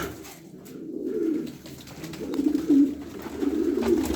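Pigeons coo in low, rolling, repeated calls nearby, overlapping one another against a soft outdoor background.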